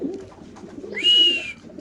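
A female pigeon in a numbered cage at a pigeon sale gives one short, close cooing call midway, over a low background of murmur and handling noise.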